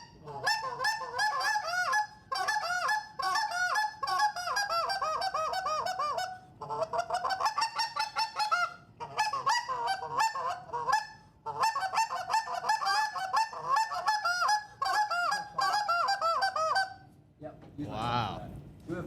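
A lesser goose call is blown in rapid, high-pitched honking bursts, repeated in close sequences with brief pauses, loud and near, mimicking geese calling.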